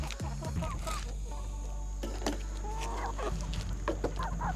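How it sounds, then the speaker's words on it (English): Several chickens cluck and squabble close by at a farm, short clucks and calls scattered throughout over a steady low hum and background rustle. "As you can see, the chickens have already started peeling it for us."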